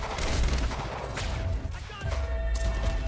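Sniper gunfire rings out in the video game Quantum Break, a dense run of cracking shots and booms mixed with ongoing combat noise, loud and close throughout.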